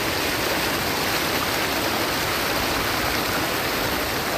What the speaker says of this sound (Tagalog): Lakas ng tubig. Galing sa bundok